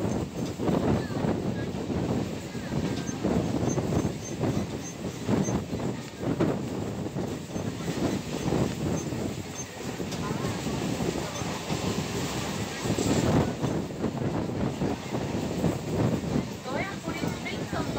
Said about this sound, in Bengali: সবুজ ধান ক্ষেতের ভিতর দিয়ে যখন আঁকা বাঁকা পথে ট্রেন চলে